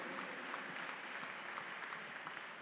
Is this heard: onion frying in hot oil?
no